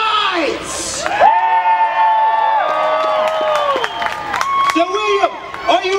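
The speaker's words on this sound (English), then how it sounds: "Good people, I would ask you to cheer for your knights!" Crowd at a Pennsylvania Renaissance Faire joust cheering and whooping for the knights, a sustained mass of voices with shouts rising over it and an announcer's voice carrying through.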